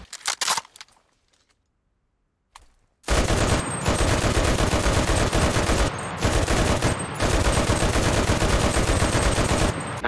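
An American Light 30 machine gun fires from its bipod in long, rapid, loud bursts, with brief pauses between strings of shots, after a few scattered clicks and near-silence.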